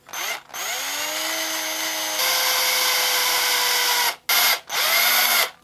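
A power drill bores into a balsa wood lure body in several bursts, the motor whining up in pitch at each start, with one long steady run and short breaks between.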